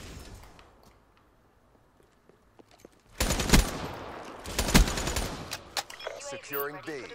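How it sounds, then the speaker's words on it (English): Machine gun fire in a first-person shooter video game: after a quiet stretch, loud rapid bursts of automatic gunfire break out in two main volleys, followed by scattered shots and mechanical clatter. "Who is shooting at me?"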